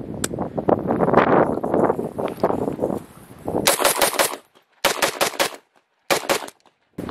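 Rifle gunfire while Magpul magazines are tested outdoors: a loud, rapid string of shots, then three separate bursts of several quick rounds each, broken by short silences, with wind rushing across the microphone.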